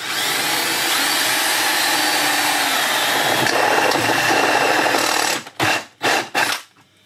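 A step drill bit bores through a die-cast metal enclosure with a steady, loud grinding whine for several seconds, then breaks into three or four short drilling bursts separated by pauses.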